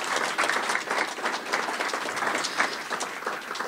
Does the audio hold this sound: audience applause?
yes